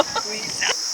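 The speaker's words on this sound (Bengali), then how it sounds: "ঝিঝি পোকা ডাকছে" A steady high-pitched cricket trill runs throughout in an acacia forest on Henry Island, with brief faint rustles and shifting noises underneath.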